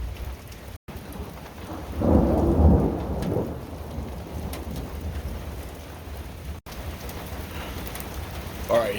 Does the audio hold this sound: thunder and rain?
yes